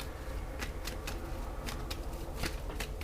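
Tarot cards are shuffled for a reading in quiet, soft riffling bursts that repeat at an uneven rhythm, close and faint, with no talking.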